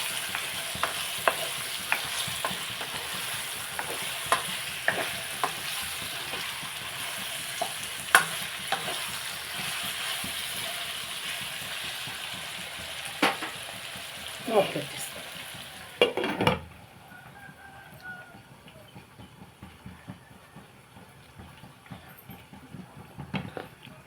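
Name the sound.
brinjal and mango curry cooking in pan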